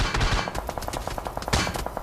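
Rapid automatic gunfire from the battle royale game BGMI crackles in quick bursts of sharp shots, with a dense spray early on and another cluster near the end.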